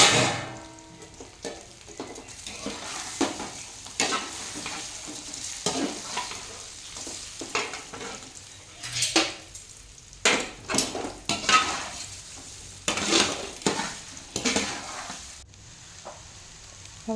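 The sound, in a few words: stirring rava dhokla pieces in a pan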